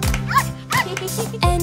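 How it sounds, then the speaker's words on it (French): Dog barks in a children's Bingo farmer song, with several short bright yelps spaced across the moment, close and prominent over a musical backing. "Il y a un fermier qui a un chien et Bingo est son nom."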